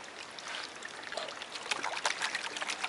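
Water trickles and pours softly while gold pan layers are washed out, a faint steady stream with light splashing that grows a little busier toward the end, no voices.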